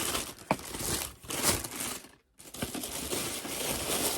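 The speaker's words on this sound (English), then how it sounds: "So let's unwrap a shoe." Paper wrapping crinkles and tears as a new Allen Iverson Question Low sneaker in the Rec Center 2023 colorway is unwrapped, close and moderately loud, in several bursts of rustling with a brief silent pause midway.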